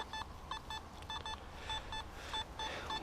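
Metal detector signal during a treasure hunt outdoors, a series of short, clear electronic beeps in quick pairs and triplets, repeating at close range over steady background noise.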